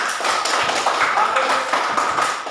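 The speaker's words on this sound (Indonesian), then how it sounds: "Tepuk tangan dulu untuk kita semua." Classroom applause from students during a teaching session, a short round of brisk clapping from a small group at close range, with a voice talking over it.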